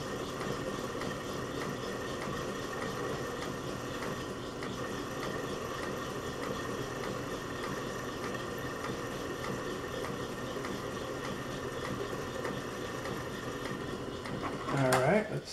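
A metal lathe turns steadily while taking light cuts on a part for a weld positioner build, a continuous close mechanical whir and hum with no let-up, ending in a brief louder clatter.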